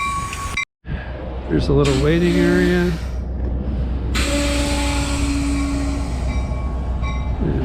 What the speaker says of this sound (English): So here comes the train into the station.